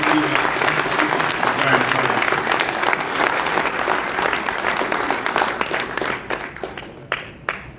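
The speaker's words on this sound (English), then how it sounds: "So let's give another round of applause for Leah Martinez" Warm applause from a banquet crowd honoring a student award recipient, full and steady at first, then thinning into a few scattered final claps as it dies away.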